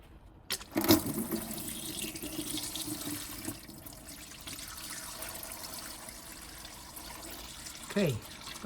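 Hot transmission fluid from a 2011 Volvo XC60 petrol automatic spills into a drain pan after the Allen-key plug comes out. A sudden splash starts a steady gushing pour that runs on under the scene, ending with a brief clank.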